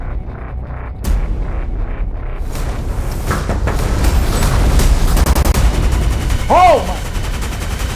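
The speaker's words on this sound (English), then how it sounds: "Stop shooting." Dense movie-trailer gunfire builds from scattered shots into sustained machine-gun bursts and heavy rumbling blasts, loud and close, with a brief shout cutting through near the end.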